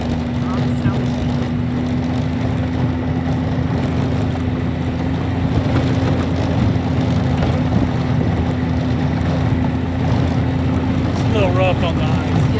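Snowmobile driving over rough ice in an Alaska winter, a loud steady engine drone with a constant hum, close by, with people talking over it.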